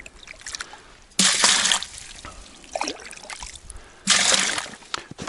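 Water scooped with a mug from a hole in lake ice while ice fishing, two loud pouring, splashing bursts with quieter trickles and small drips between them, close by and with no talk.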